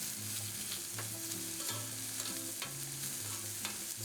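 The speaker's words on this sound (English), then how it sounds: "Just want to kind of toss these mushrooms and onions around." Mushrooms and onions frying over low heat in a pan alongside bacon-wrapped filet mignon, a constant sizzle with periodic scraping stirs and tosses, close and without voices.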